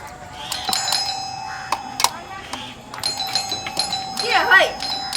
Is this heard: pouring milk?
no